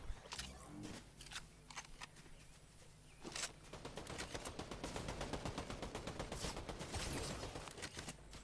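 Gunfire in a collegiate Fortnite match, with scattered single shots at first, then sustained rapid automatic fire in a steady rattling rhythm, sounding fairly distant and low in level.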